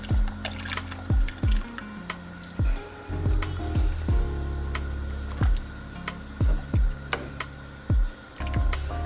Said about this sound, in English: And then I'm going to add in my green enchilada sauce, both cans.